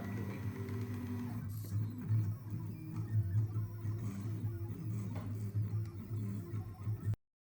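An EasyDraw V3 drawing and writing machine plots with a pen, giving a steady mechanical whir and buzz with faint ticking that runs throughout at close range, then stops abruptly near the end.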